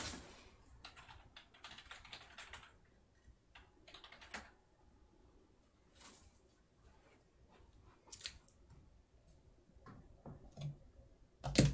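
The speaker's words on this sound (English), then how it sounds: "I'll type it in again." Quiet, irregular clicking of fingers typing on a computer keyboard during a live-streamed mini PC build, in scattered bursts with pauses and a louder knock at the end.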